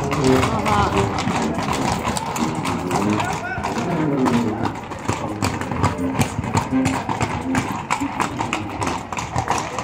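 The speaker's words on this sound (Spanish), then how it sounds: "Muchísimo caballo." Many horses' hooves clip-clopping on pavement during a horseback parade, a dense continuous clatter close by, with crowd chatter and voices mixed throughout.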